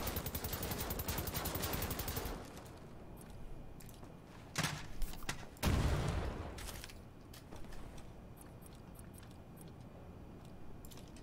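Rapid automatic gunfire rattles loudly for about two seconds in the shooter game Wolfenstein: The New Order, followed by a couple of sharp louder bursts and fading rumble.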